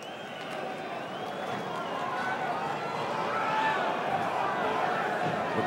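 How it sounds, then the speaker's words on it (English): A UFC arena crowd roars steadily as fighters walk to the octagon, a broad sustained wall of cheering that swells slightly, with voices talking over it. "The crowd on their feet as both fighters approach the octagon. The loudest cheers go certainly for Forrest Griffin"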